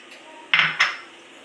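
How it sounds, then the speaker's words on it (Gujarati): Ice cubes drop into a glass of cold cocoa, two quick clinking knocks about a quarter second apart, close and fairly loud in an otherwise quiet kitchen. "અંદર આપણે બરફ નાખશું."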